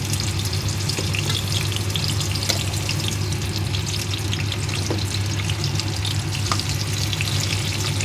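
Eggplant pieces fry in hot oil with a steady, dense crackle and sizzle that runs evenly throughout, close and fairly loud, with no voices.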